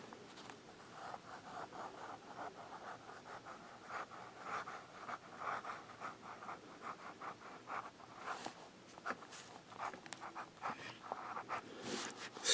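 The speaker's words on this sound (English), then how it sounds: "we'll do the Pelican with a medium nib" A Pelikan fountain pen with a medium nib writes on paper, giving soft, close scratching and rubbing strokes in quick irregular bursts, with a few sharper scrapes near the end.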